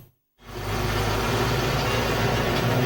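Heavy trucks move in road traffic at peak time, a steady loud rumbling engine and road roar that kicks in abruptly after a brief silence and holds to the end.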